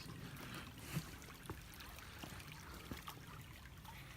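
A small creek flowing at a trail crossing on the Appalachian Trail in Maryland, a soft steady trickle and burble of water heard close by and fairly faint, with occasional small splashes.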